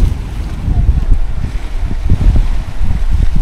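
Strong wind gusts at Balancing Rock on the Nova Scotia coast buffet the microphone, a loud, steady low roar that swells and dips throughout.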